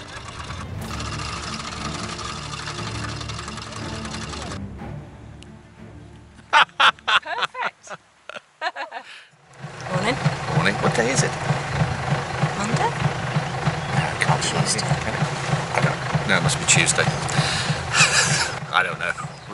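A sailboat's engine runs in a steady idling rumble close by, broken by a few seconds of quieter knocking and near silence before the drone resumes. A voice speaks over it.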